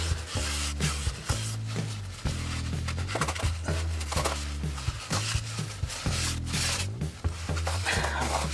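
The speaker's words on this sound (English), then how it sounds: "Give it a wipe round, get the corrosion out." Corrosion is rubbed off the front brake parts of a 2018 BMW 640d Gran Coupe F14 with a rag and WD-40, giving repeated close, scratchy wiping strokes in an uneven back-and-forth rhythm.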